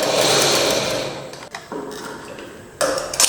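A sewing machine stitches a curved hem in a tailoring class. A loud, close whirring run of stitching slows and stops, then comes a short quieter burst and a final quick spurt.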